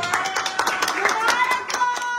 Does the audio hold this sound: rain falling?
no